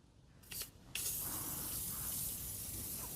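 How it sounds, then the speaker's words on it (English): A spray can hisses onto the metal underside of a lawn mower deck: a brief double puff, then a close, loud, steady continuous spray lasting to the end. "I'm spraying underneath the deck, every piece of metal"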